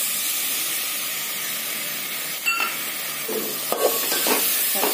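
Yogurt being stirred into a fried chicken biryani gravy in a pan, a steady soft sizzling hiss with a few brief scraping stirs near the end.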